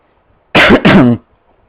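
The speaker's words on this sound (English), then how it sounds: "Sorry for the coughing again." Two quick, harsh coughs close together, loud and close, with near silence before and after.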